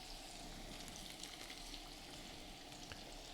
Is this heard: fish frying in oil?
yes